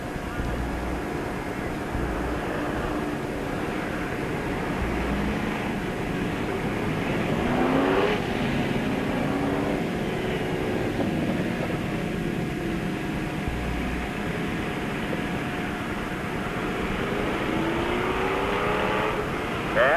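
Bomber-class stock cars race around Peoria Speedway in a feature event, a steady roar of engines running through the whole stretch with a passing car's pitch sweeping by, while a voice talks over the noise.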